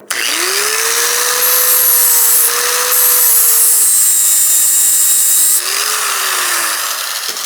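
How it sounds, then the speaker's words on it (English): A flap disc grinder grinds a welded shifter off a Yamaha Banshee, with a loud, steady high whine that dips in pitch under load and then rises again. "So maybe we can grind that off."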